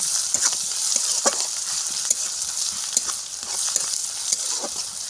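Garlic and spice paste sizzles steadily in a pan with bright, continuous frying hiss and occasional soft stirring scrapes and pops, close and even throughout without talk.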